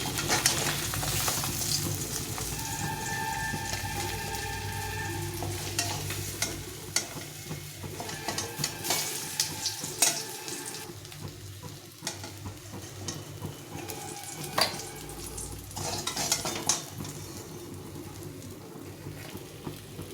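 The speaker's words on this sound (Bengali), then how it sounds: "মাছগুলো ভেজে নিলাম" Bata fish frying in a little oil in a wok, a continuous close sizzle with frequent scraping and clinking as the pieces are stirred and turned, with no voices.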